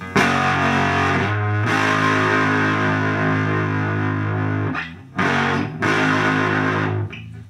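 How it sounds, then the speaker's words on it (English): A thick, saturated fuzz guitar through a Fredric Effects pedal with texture set fully down drones loudly and continuously, cutting out briefly and then returning with sustained, buzzy distorted chords. "With the texture all the way down, it's more of a traditional fuzz."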